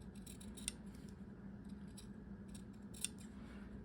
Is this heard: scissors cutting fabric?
yes